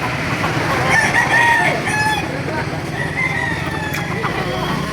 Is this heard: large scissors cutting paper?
no